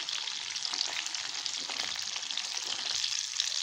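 Chicken pakoda deep-fries in a pan of oil, a dense, constant bubbling sizzle up close with faint stirring scrapes, no voices.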